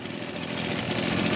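A Husqvarna 125B handheld leaf blower's small two-stroke engine idles steadily just after starting on half choke, a continuous buzzing drone at close range with no talk.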